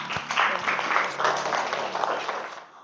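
Classroom applause for a student, a short burst of scattered hand clapping from a small group, fairly quiet and fading out at the end.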